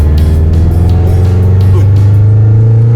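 A Subaru accelerates hard in second gear, its engine tone steady and close with a strong low drone that holds throughout.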